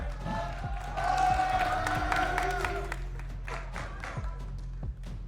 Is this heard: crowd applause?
yes